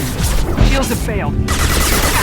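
Mass Effect Legendary Edition combat: a quick burst of weapon fire from an impact shot, loud and close, mixed with shouting voices.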